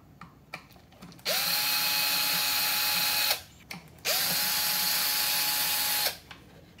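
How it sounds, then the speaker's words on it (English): A power tool backs bolts out of a Ryobi 40V jet fan blower motor in two sustained whirring bursts, each about two seconds, close and loud with a short pause between and small clicks before each run. "And we have to remove these four bolts."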